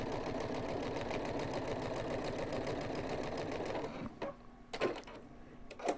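A sewing machine runs steadily, stitching binding onto a quilt with a fast, even mechanical whir. After about four seconds it stops, leaving a few close clicks and handling noises.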